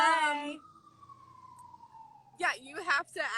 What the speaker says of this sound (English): I'm sorry, there's a siren.